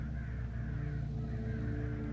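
Crows caw in the Hitchhiker video game, a continuous harsh cawing chorus that holds steady and fairly loud across the whole moment, with no talk over it.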